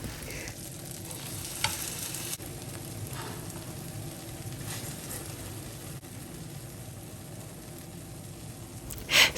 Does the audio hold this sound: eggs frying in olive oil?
yes